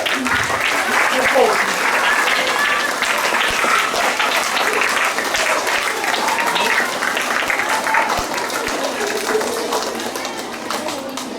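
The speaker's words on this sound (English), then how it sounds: "Let's hear a thunderous applause for Shaurya" Applause from a school assembly crowd fills the hall in a dense, steady wash of many hands clapping that runs unbroken for over ten seconds and tapers slightly toward the end.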